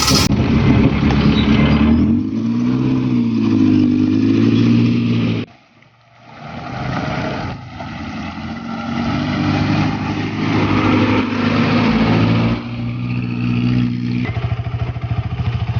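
A motorcycle engine running close by, a steady rough drone with shifting revs, briefly dropping out before resuming and continuing at a constant level.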